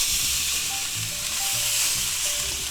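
A thick sous-vide London broil steak sizzles loudly and steadily in a hot pan as it is flipped, a continuous dense frying hiss with faint scraping underneath and no talk.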